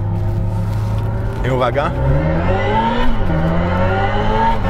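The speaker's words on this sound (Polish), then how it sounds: "Teraz mamy Evolution, to jest przyszły dźwięk elektrycznego modelu N, tak to nazwali." Synthetic Evolution drive sound of a Hyundai Ioniq 5 N electric car, a layered engine-like drone rising and shifting in pitch with a brief warbling sweep, loud and close, with a short spoken word over it.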